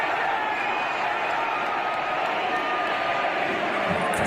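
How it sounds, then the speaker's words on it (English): Steady, dense crowd roar with cheering at a strongman lifting event, a continuous wash of voices filling the whole stretch at fairly even loudness. "Crowd's cheering for him."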